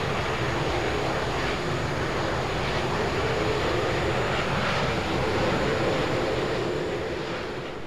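Jet engine of an L-39C Albatros on short final in a flight simulator game, a loud steady roaring whine that holds constant throughout with no speech over it.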